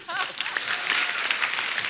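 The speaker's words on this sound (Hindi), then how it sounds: "जोरदार ताली हो जाए" Studio audience of a comedy talk show applauds; a wash of clapping rises and holds for a couple of seconds, with a voice briefly audible at the start.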